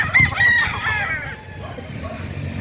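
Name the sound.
Hatch gamecock rooster crowing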